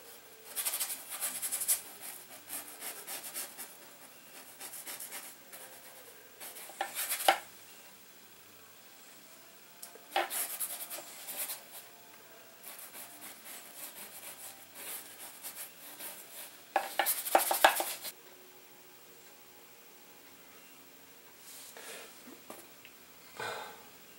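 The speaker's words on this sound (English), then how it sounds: "Scrub a little bit of that in." A paintbrush scrubs oil paint onto canvas in faint, close, bristly scratching strokes that come in scattered bursts over a quiet background.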